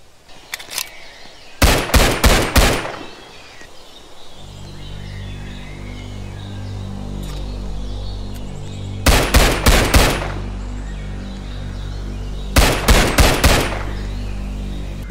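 Weapon gunfire in the island combat video game Island Predator: three rapid bursts of loud, close shots spaced several seconds apart, over a steady low hum.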